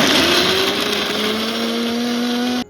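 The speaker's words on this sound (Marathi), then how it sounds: "चला आता आपण मिक्सरचं भांडा घेतले, त्याच्यात आपण मक्याचे दाणे ॲड करू आणि मिक्स करून घेऊ" A kitchen mixer grinder crushes corn kernels in a loud continuous whine, its motor pitch rising slightly before it cuts off abruptly at the end.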